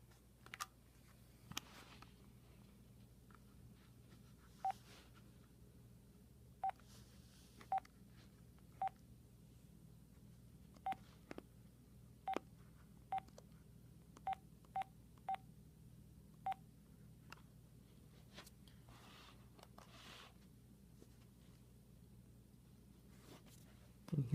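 Cordless phone keypad being dialed: a dozen or so short, clear beep tones at irregular intervals over a low steady hum, close and moderately loud.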